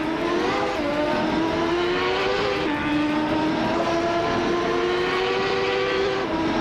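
A Reynard 95i race car engine in a racing video game, droning loud and steady at high revs with brief dips at gear shifts and no voices.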